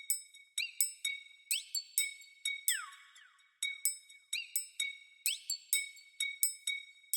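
A triangle loop sample from Capital Drum Kit 4 plays alone: bright metallic pings ring out in a bouncy, repeating pattern, with a few pitch-bending swoops, faint and clean with no voices.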